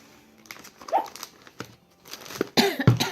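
A few short coughs near the end, loud and close, after quieter rustling and handling noises.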